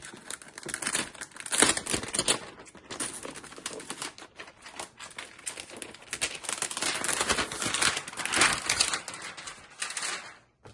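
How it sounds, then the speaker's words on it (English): An Asus ROG Strix G16 laptop from 2024 being unboxed and unwrapped: continuous close crinkling and rustling of plastic wrap and packaging, with sharper crackles and tears throughout, no talking. "we'll just unbox and unwrap it"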